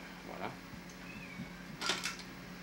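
A cat meows repeatedly from another room, somewhat distant and faint, with a brighter cry near the end over low background hum.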